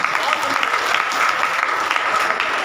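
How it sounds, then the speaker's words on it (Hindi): An audience at a Shrimad Bhagavat Katha religious discourse claps loudly and steadily, a close, dense patter of many hands with faint voices mixed in. "ताली बजाओ।"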